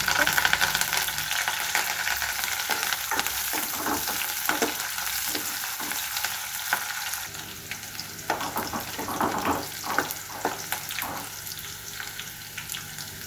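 Onion and curry leaves sizzling in oil in a pan, a dense steady frying hiss with intermittent stirring scrapes and taps, close and continuous without speech.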